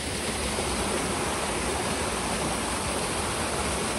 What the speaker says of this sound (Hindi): झरना इतना प्यारा था